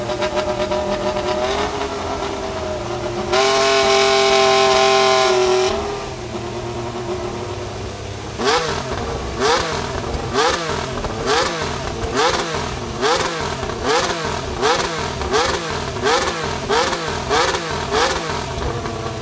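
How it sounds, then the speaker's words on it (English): A McLaren MCL39 Formula 1 car engine revs hard, first a sustained high-pitched scream, then a rapid series of rhythmic rising and falling rev bursts, loud and close with no talk. "Listening to the McLaren 2025 Challenger is like hearing the heartbeat of a finely tuned racing beast."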